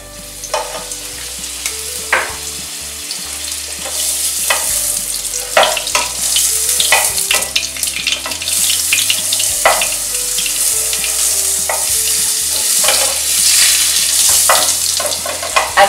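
Butter with a splash of oil sizzles loudly in a pan while the filling for a chicken and spinach lasagna is started, a close, continuous crackling fry punctuated by clicks and scrapes of a utensil.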